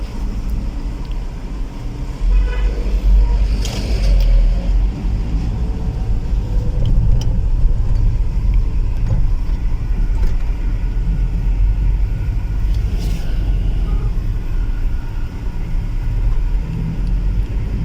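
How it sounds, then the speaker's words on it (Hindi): Car travelling along a busy road in Medina, Saudi Arabia, its steady engine and tyre rumble continuous and close throughout, with passing traffic noise layered underneath and no talk. "बड़ी मसरूफ़ रोड है ये।"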